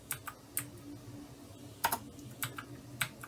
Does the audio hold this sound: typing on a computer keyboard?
yes